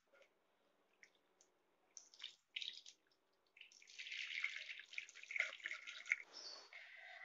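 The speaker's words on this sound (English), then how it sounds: "I washed with clear water 4 times." Homemade butter is rinsed under clear tap water in a kitchen sink, with soft drips and splashes early on, then steadier running water and sloshing toward the end.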